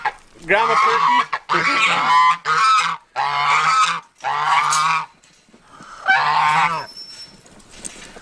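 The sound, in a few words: turkey gobbling in farmyard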